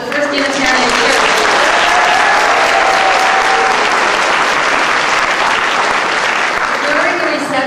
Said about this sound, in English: let's round of applause for the First Unitarian Church